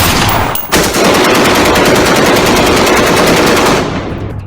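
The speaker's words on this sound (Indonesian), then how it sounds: "polisi bersenjata mencoba untuk menembak." Rapid automatic gunfire from armed police firing at a fleeing alien, a loud sustained burst of closely spaced shots with a brief break near the start, then cutting off abruptly.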